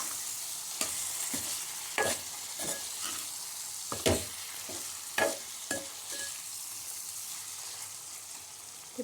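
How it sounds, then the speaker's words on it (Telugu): Bottle gourd curry being stirred in a hot pan, steady sizzling and frying with repeated scraping strokes of a spoon at irregular intervals, close and alone. "ఇప్పుడు దీన్ని మంచిగా కలిపేసుకోవాలి వక్కలకు పట్టేలాగా."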